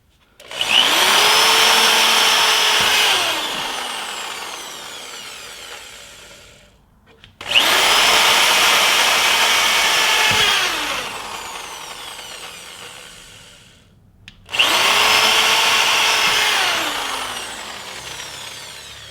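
A hot-tipped power tool spins out plugs in a Gen5 FastTrac snowmobile track, three long whining bursts of several seconds each with a grinding, rubbing edge, each slowly winding down before the next starts, close and loud.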